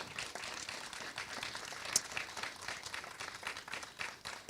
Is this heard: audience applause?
yes